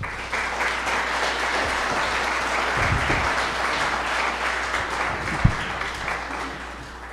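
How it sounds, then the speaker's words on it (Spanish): An audience at a lecture hall conference on monumental architecture gives sustained, even applause, a steady crowd of clapping hands that fades slightly toward the end. "para quien pido nuevamente un fuerte aplauso."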